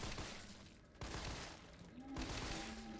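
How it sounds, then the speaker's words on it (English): Pistol fire at zombies in Resident Evil 3 Remake comes through as several sharp, loud bursts spaced about a second apart over dense game noise. "Let's use a pistol a little bit."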